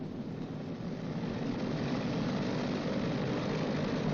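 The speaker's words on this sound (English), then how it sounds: "Advance number 1 throttle to 2000 RPM." A B-29 bomber's piston engine runs up steadily to 2000 RPM during a ground check, a loud, continuous propeller drone that holds without breaks.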